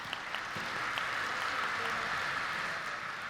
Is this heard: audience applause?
yes